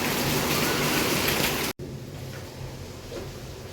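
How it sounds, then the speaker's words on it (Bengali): Heavy rain pours down in a dense, steady roar, cutting out for an instant and then continuing somewhat softer and more distant, with no voices. "এখন বেশ জোরেই বৃষ্টিটা হচ্ছে"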